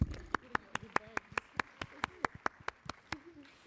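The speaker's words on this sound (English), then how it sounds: "Let's give our presenters another round of applause for the great presentations and question answering." A small conference audience claps for the paper presenters with steady, evenly spaced, fairly sparse hand claps that sound close by and slow near the end.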